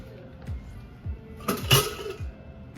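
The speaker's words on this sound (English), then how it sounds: "Now we will take out our pressure cooker." Metal pots and a pressure cooker are pulled out in a home kitchen, giving a series of sharp clanks and clatters, with a louder burst of rattling in the middle.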